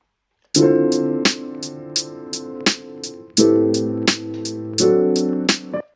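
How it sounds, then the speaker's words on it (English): A simple, rigidly even lo-fi boom-bap beat: crisp quantized snare hits on beat three landing with chord stabs, tight and mechanical in timing, with no voices. "Really simple snare there on beat 3, completely quantized."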